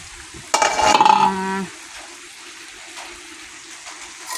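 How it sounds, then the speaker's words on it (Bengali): Vegetable curry cooking in a pot on a gas stove is stirred briefly, giving a short burst of scraping and sizzling with a clanking ring near the start, after which a quieter simmering hiss carries on alone. "একটু নেড়ে চেড়ে দিতে হবে হালকা, যাতে নিচে লেগে না যায়।"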